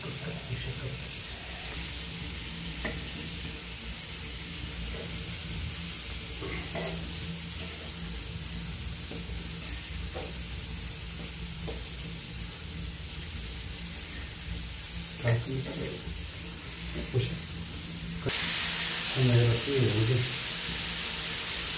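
Egg masala sizzles and fries on a tawa at low volume, with scattered scraping and clatters as the egg is flipped, and a louder burst of sizzling near the end.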